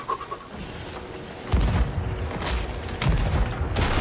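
Ship cannons firing in the Sea of Thieves pirate video game: deep, heavy booms strike near and loud at intervals over a rumbling background, with several blasts in a row.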